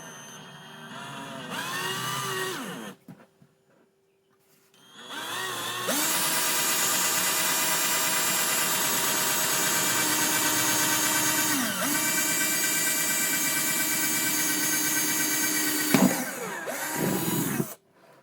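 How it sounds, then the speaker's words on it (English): A power drill whirs loudly and steadily for about eleven seconds after a brief short burst, then stops; no talking over it. "So, let's try and drill."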